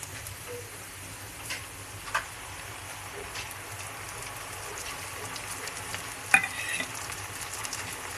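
Browned onions and spice paste fry and sizzle quietly in a pan while being stirred, a steady soft crackle with a few scraping clicks of the spoon.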